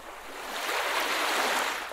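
Steady rushing water from a noise-generator app's river setting, a broad continuous wash that swells slightly and holds at moderate loudness, alone with no voices.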